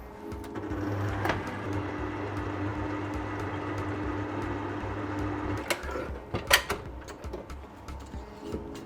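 Banana bread batter being stirred in a bowl makes a steady, soft scraping and swishing with scattered clicks of the utensil against the bowl, close by and continuous, growing more irregular toward the end.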